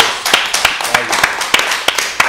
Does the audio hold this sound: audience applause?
yes